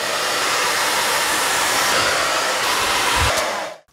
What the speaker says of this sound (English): Let me tell you about the features of it while I blow dry my hair because it's very loud